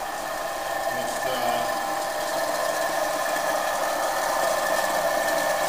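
A Millrite MVI vertical milling machine with a six-speed step-pulley spindle runs steadily nearby, giving a continuous mechanical hum and whine with a faint rattle throughout.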